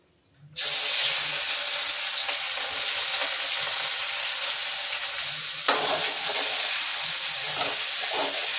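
Chopped onion and green chili hit hot oil with browned sugar in a meat dish. A loud, sudden burst of sizzling starts after a short quiet opening and holds steady and close, with faint stirring scrapes.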